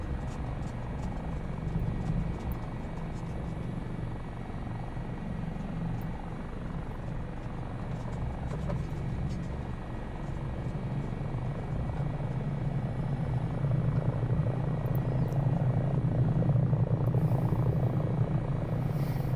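A Sud Aviation SA 360 helicopter in Microsoft Flight Simulator 2024 drones steadily with a low rotor throb and engine whine, swelling slightly louder toward the end, with no pauses.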